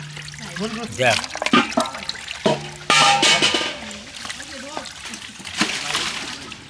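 Water splashes and trickles over food being rinsed clean while preparing a large batch of beef tehari and chicken roast, with bursts of pouring and splatter under close conversation.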